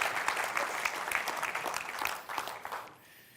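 A church congregation claps together in steady, dense applause that carries for a few seconds, then breaks off abruptly into quiet.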